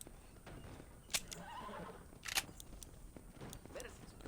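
A horse whinnies in Red Dead Redemption, in a stable holding many horses: a faint, quiet neigh among scattered sharp clicks, low ambient noise throughout.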